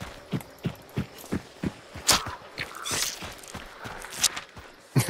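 Horse hooves clop in an evenly spaced rhythm across the ground in the video game Hunt: Showdown 1896, close by, with a few sharper impacts and rustles around the steps.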